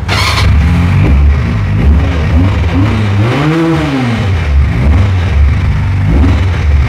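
A Pilder V4 250cc motorcycle, a 2025 model with a liquid-cooled engine, idles loud and close, then rises through a sweeping rev and falls back to a throbbing idle.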